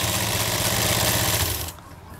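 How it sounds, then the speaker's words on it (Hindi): A sewing machine runs loudly and steadily, stitching kurti sleeve fabric right beside the buckram, then stops abruptly after under two seconds. "यहाँ बिल्कुल बुकरम के पास से हमें सिलाई लगानी है"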